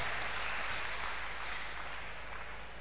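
Applause fills a church congregation after a testimony of a miracle, a steady dense wash of many hands clapping throughout, fairly loud and continuous, with no talking over it.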